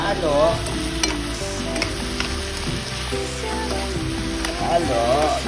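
Pork stirred into a stir-fry with Korean fishcake and bell pepper, a steady close sizzle with scraping and clinking of the spatula, and voices talking intermittently over the cooking.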